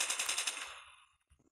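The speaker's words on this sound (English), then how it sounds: "Friendly sentry gun deployed." A sentry gun in Call of Duty Mobile's Attack of the Undead mode fires a loud, rapid automatic burst that tails off over about a second, followed by a faint click.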